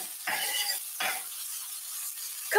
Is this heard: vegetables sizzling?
yes